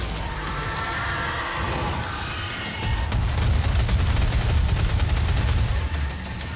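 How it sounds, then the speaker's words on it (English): Loud, continuous barrage of explosions and gunfire in the video game Doom, dense overlapping blasts that grow heavier and deeper partway through and stay unbroken to the end. "Explosions everywhere!"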